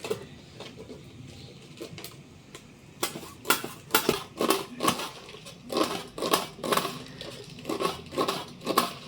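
Spinach leaves bunched together and sliced with a knife held in the hand, with no chopping board: a quick series of crisp cutting and snapping strokes that speeds into a steady rhythm, close up.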